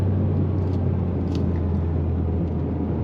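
A Toyota GR Yaris engine heard from inside the car while driving, a continuous low rumbling drone at moderate level with a faint click or two over it and no voices.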